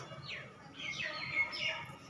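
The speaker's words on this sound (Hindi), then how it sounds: "चिड़िया की आवाज़ है।" Small birds chirp at 6:30 in the evening, repeated sweeping calls moderately close over a soft background hush.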